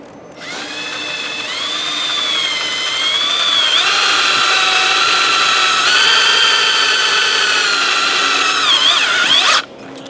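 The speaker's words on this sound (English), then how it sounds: "now he's going to put in the screws for the braces" A power drill whines loudly and continuously for about nine seconds, driving screws into wooden braces for a chicken and quail pen built with a trampoline, its pitch wavering slightly before it cuts off.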